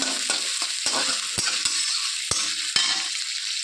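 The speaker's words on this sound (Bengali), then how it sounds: "এক মিনিট মতো ভালো করে ভেজে নেব" Onion, green chilli and garlic stir-fried in a pan, with a steady bright sizzle of hot oil and repeated scraping knocks of the spatula against the pan, close and continuous without talk.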